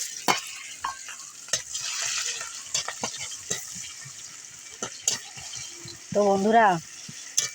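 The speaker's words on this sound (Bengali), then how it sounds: "কালো জিরেটাও একটু ভেজে নেব, নেওয়ার পর পেঁয়াজগুলো দিয়ে দেব।" Black cumin seeds fry in a pan for an egg curry, a faint steady crackle and hiss dotted with small clicks, while a voice speaks briefly near the end.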